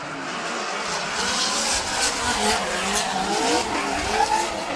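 Drift car engine screaming at high revs on the rev limiter with tire squeal and skidding, held near a constant pitch, fairly loud, during a Formula Drift Japan competition at Suzuka Twin circuit.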